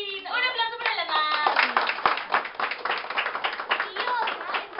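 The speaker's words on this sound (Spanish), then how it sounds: "¡Un aplauso para la mamá!" Applause and hand clapping from a group celebrating a mother at a birthday surprise, dense and steady throughout, with a voice and other voices rising over the claps at the start.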